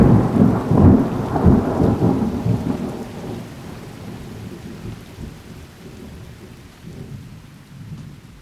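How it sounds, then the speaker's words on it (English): Steady rain pours down through a thunderstorm, with low rumbling thunder that is strongest at the start and then fades into a softer, continuous wash of rainfall. "I can't complain about the rain, but it definitely stopped me dead in my tracks"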